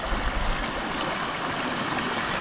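Water runs steadily at a water spot beside a hiking trail in the Erzgebirge and Vogtland, a continuous close rushing and trickling with no voices over it.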